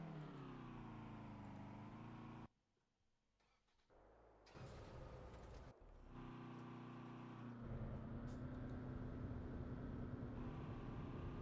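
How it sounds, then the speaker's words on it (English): Truck engine revving in the TruckersMP driving game, a steady loud drone with harmonic tones that drops out briefly, then returns and climbs in pitch, with an engine sound continuing throughout. "Revving that engine."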